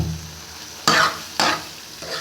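Roasted eggplant bharta frying in ghee in a pan, with two loud close stirring scrapes standing out over a low background sizzle.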